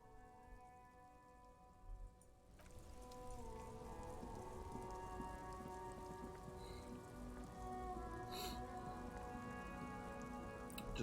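Steady rain falls on surfaces in the video game Disco Elysium, with a soft hiss and dense patter that thickens after a couple of seconds and keeps going, fairly quiet and with no voices.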